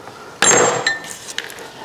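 Century-old tools laid into a metal pan land with one sharp clank and a brief metallic ring, followed by a few lighter clinks and taps.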